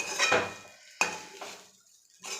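A spoon scrapes and clatters through lemon rice being sautéed in a pan, with a couple of sharp knocks against the metal between softer stirring sweeps and brief quiet gaps.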